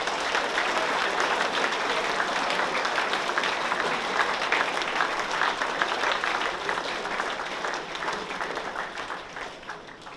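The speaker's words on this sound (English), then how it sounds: "Round of applause for the leadership team." Sustained audience applause at a boys' high school senior prizegiving, a broad even roar of many hands that holds steady before gradually tapering near the end, with no voices over it.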